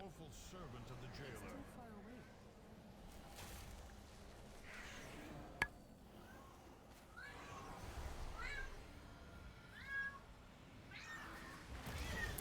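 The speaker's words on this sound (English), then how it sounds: "I have a cat screaming in the background." A house cat meows and yowls intermittently in the background, faint and somewhat distant, beneath ongoing speech and game sounds.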